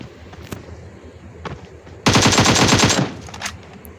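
Automatic gunfire in a shooting video game: one rapid spray of shots lasting about a second, loud and close, after a few isolated shots and clicks, with no talking.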